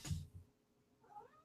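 A cat gives a brief, faint meow, a short tonal cry following a soft thump, close by in a quiet room.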